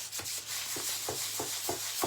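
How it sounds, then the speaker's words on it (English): Rhythmic back-and-forth scrubbing of an ultra smooth sanding sponge removing adhesive residue, about seven even strokes, close up with no talking. "I take my ultra smooth sanding sponge and I just sand it a little bit"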